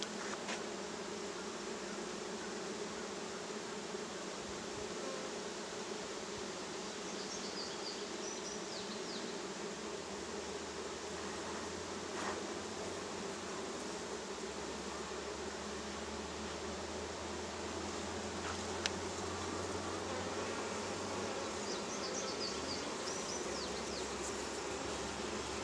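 Honey bees buzzing steadily around an open hive while a queen is being marked, a dense continuous insect drone with no talking, holding even and close throughout.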